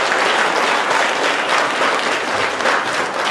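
Hearty audience applause at a Bulgarian literary reading marking a writers' union centenary, dense continuous clapping that stays loud and even from start to end.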